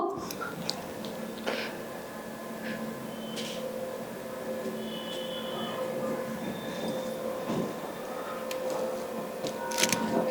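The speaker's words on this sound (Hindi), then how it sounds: "ट्रेन स्टेशन पर आ गया है।" A train pulls into a station as a sound effect in a stage play, with a steady rumble of rolling wagons, occasional wheel squeals and clanks, moderately loud and continuous.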